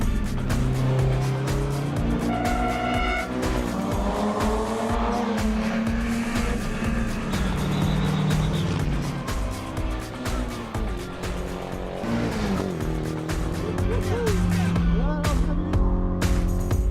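Race cars on the WTCC Marrakech circuit, loud engines revving and passing close, with tire squeals, gear changes and overlapping cars throughout.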